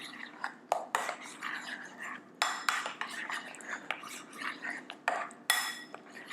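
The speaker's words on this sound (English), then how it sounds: "And then go ahead and give this a mix." Utensil scrapes and clinks against a bowl as mashed potatoes are mixed with heavy cream, a series of short irregular strokes at moderate distance with soft background noise and no clear talk.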